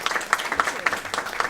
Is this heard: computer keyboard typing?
no